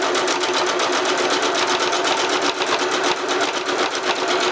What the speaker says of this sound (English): lower the needle down into my fabric, lower the presser foot, and I am going to sew